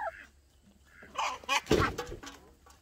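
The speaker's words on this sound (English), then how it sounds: "I can give these to the turkeys" Turkeys gobble and cluck nearby in a short burst, rising to a loud cluster of calls midway before fading back to quiet.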